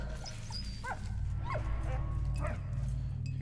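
A dog in the World War I video game Valiant Hearts gives several short whimpering yips over a steady low game soundtrack hum.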